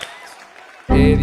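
A sudden, loud burst of clapping from a lone audience member on a Christian podcast set starts after almost a second of near quiet and runs to the end.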